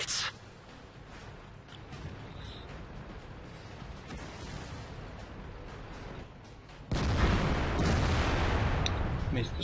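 A Maus German tier 10 heavy tank firing in World of Tanks: a heavy cannon boom hits sharply near the end over steady rumbling battle ambience, with a faint earlier crack at the start.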